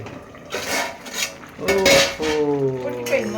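Cooked rice tipped into a pot and stirred in for a festive Telangana-style kadambam offering, with metal spoon scrapes and clinks against the pot in short bursts, close up.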